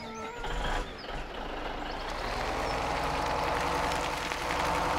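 A truck in Farming Simulator 17 drones steadily with a loud, continuous engine rumble and hiss, joined by a brief high tone early on, with no talking.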